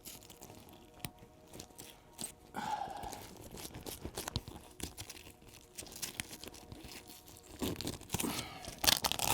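Velcro on the side window of a Jeep LJ Bestop Trektop is pulled apart in several rasping, crackly tearing bursts, close and fairly quiet.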